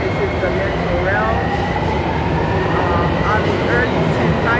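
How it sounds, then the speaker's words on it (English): A Miami Metrorail train rolls along with a steady, loud rumble and rising and falling whining tones from its motors, heard up close from on or beside the train. "This is the Metro Rail."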